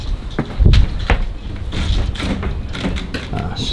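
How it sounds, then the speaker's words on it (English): A door in an abandoned resort hotel thuds and rattles as wind pushes it, a loud close bang followed by irregular knocks and scrapes, with faint voices in the background. "It's just the wind blowing the door."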